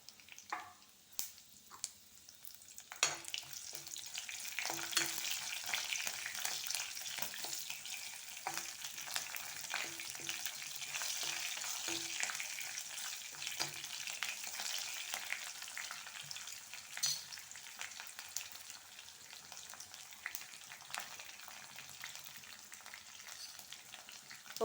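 Mustard seeds, dried chili and curry leaves fry in hot oil for a tempering, a close, steady sizzle with scattered crackles and pops that builds from a quieter start, with occasional stirring.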